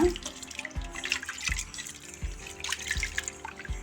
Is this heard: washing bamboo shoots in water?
yes